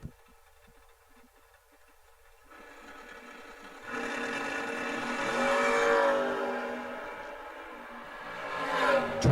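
A second-generation Chevrolet Camaro and a Monza drag race, an engine roar building from quiet into a loud sustained howl that peaks, dips, then rises again near the end.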